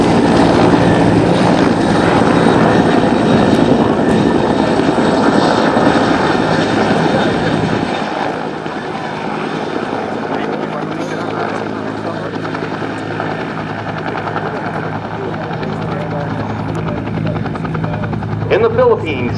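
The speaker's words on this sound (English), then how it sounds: "Approaching show center, you have 2 UH-1 Hueys." Two Bell UH-1 Huey helicopters approach show center at the MCAS Cherry Point airshow, a loud steady rotor and engine roar that drops slightly partway through while continuing to thrum, with an announcer's voice over it.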